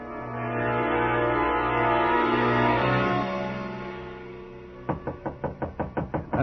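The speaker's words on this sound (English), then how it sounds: "The knock surprised me." A rapid series of about nine sharp knocks on a hotel room door in a radio drama, loud and close, following a sustained orchestral music bed that fades out just before the knocking begins.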